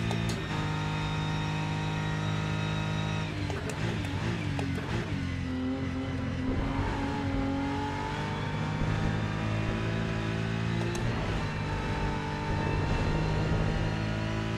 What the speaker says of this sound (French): On entend énormément le turbo.